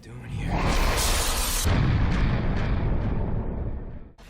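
Explosions from the found-footage horror film Grave Encounters 2 erupt in a loud, sustained roaring blast with rumbling debris, fading out near the end.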